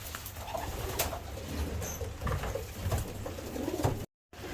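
Pigeons coo softly and repeatedly in low, throaty calls, with a few light rustles and taps nearby and no talking.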